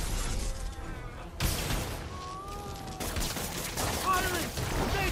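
Enemy gunfire in Marvel's Spider-Man, loud bursts of shots rattling out in quick, uneven volleys with game voices shouting over the din.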